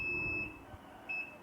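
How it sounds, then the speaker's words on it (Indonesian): A Khalifah JWS Wi-Fi prayer clock display gives a short high electronic beep, then a second brief beep a moment later, thin and steady over a low room hum. "Nanti akan bunyi bip lagi."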